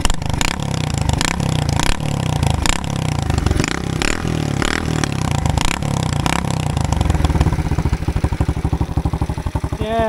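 A Loncin 110/125 motorcycle engine running with no exhaust fitted, loud raw rapid popping and clattering that revs in rhythmic surges and then settles into fast steady firing, close to the listener with no talk.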